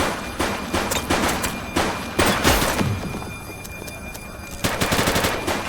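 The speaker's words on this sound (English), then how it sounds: "She's shooting!" Gunfire during a police shootout in the video game The Precinct: loud, rapid bursts of automatic fire and single heavy shots crack out repeatedly over several seconds, close by, with brief pauses between volleys.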